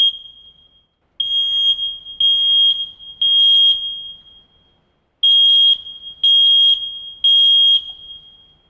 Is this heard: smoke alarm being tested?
yes